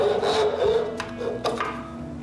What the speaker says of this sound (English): I remove it from the lathe and cut the rest with a saw.